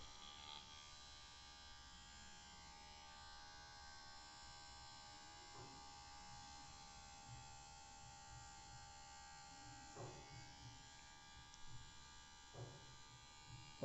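A salvaged car wiper motor with a high-torque worm gear runs continuously, producing a steady electric buzz and whine at close range, with a few faint knocks and a sharp click right at the end.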